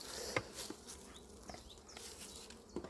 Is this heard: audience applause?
no